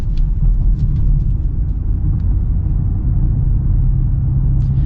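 Steady, loud engine hum and low road rumble fill the cabin of a 2025 BMW X3 with piped-in engine sound, continuous and even throughout, with no talk.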